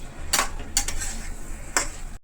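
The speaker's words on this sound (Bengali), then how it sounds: "এবার আলুগুলোকে মশলার উপর দিয়ে দিয়েছি, এবার কষে নেব ভালো করে।" A spoon scrapes and clinks against the pan as pre-fried potatoes are sautéed in spice masala for an egg potato curry, with three or four sharp metallic strokes over a soft background hiss.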